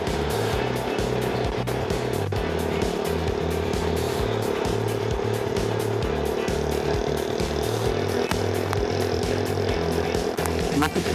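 Motorcycles in congested road traffic between Bulukumba and Bantaeng in Indonesia, making a continuous, close engine drone with overlapping revving throughout.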